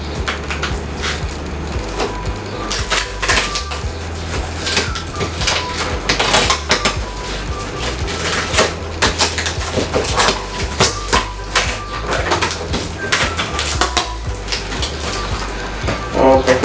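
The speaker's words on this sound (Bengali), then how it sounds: "প্যাকিংটা খুলছি।" An MT Revenge 2 motorcycle helmet is being unboxed, with packaging rustling, crinkling and scraping in close, uneven bursts throughout.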